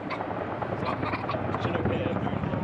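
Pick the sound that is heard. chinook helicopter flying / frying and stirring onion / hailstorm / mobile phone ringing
chinook helicopter flying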